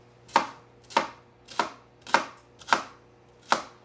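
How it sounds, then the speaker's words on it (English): Six crisp knife chops through an onion on a cutting board at an even, unhurried rhythm, close and clear over a faint low hum. "I'm going to start by chopping my onion."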